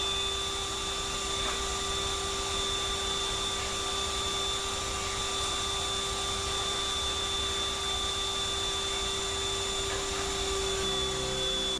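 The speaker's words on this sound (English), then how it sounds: "A vacuum cleaner spins out onto the floor and turns on by itself" A vacuum cleaner that has rolled onto the floor switches itself on and drones steadily at close range, a constant whirring hum with a faint electrical tone that holds without change throughout.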